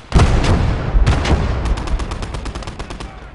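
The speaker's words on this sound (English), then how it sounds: "That's the 76mm anti-tank gun that's doing that damage." In the World War II video game Gates of Hell: Red Star Rising, a 76mm anti-tank gun fires amid battle, with a rapid cluster of loud booming shots and crackling gunfire rolling into a fading rumble.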